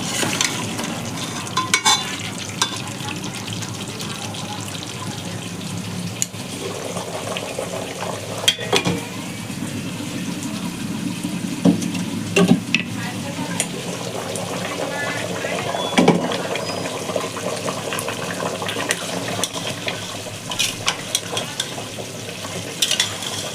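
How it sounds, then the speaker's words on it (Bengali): Meat being browned and stirred in a pot for biryani gives a steady sizzle with scraping spoon strokes and occasional clatter against the pot, fairly close and continuous throughout. "এখানে আমি ভালো করে কষিয়ে নিচ্ছিলাম যাতে একটু নরম হয়ে যায় মাংসটা"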